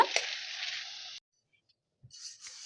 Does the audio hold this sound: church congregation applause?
no